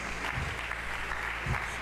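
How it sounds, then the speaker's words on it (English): Applause from an audience at the Abia TechFlock'22 tech event in Umuahia, a steady, fairly faint patter of many hands, with low thumps and a hint of voices under it. "Just keep clapping till he comes off stage."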